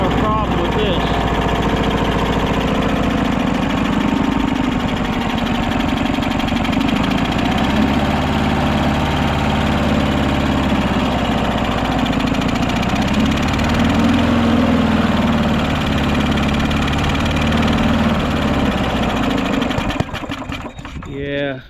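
A small engine with a faulty carburetor runs loud and steady at close range with a rough, buzzing drone, then cuts out near the end.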